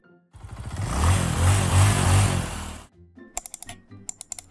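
A motorcycle engine revs hard for about two and a half seconds, close and loud with rising pitch, and then stops. A quick run of sharp clicks and taps follows.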